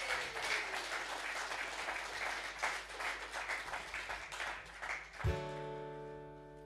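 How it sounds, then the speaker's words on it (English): A live music show audience claps steadily and enthusiastically for several seconds before it tapers off as a guitar chord rings out. "So give them all a big clap."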